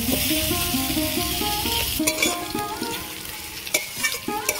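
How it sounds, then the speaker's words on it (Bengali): Potatoes fry with sliced onion and green chilli in hot oil, a steady close sizzle broken by the scrape and clatter of a spatula stirring the pan. "এবার এই পেঁয়াজ কাঁচা লঙ্কার মধ্যে আলুগুলো আমি ভালো করে ভাজা ভাজা করে নেব।"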